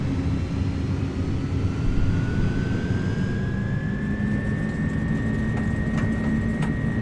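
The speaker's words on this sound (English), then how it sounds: "Engine sounds need to be better in this aircraft, if I'm being honest with you." Simulated Airbus A300 jet engines roar at takeoff power in a flight simulator, a loud, steady rumble with a slowly rising whine as the aircraft accelerates down the runway.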